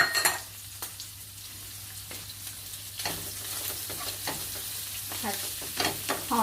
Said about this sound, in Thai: ผัดให้สุกนะคะผัดให้กุ้งให้สุกก่อน